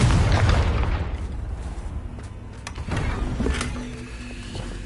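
A Confringo fire spell blasts in the Hogwarts Legacy video game, a loud booming burst at the start that rumbles on, followed by further crackling impacts and a second swell of blast noise around the middle.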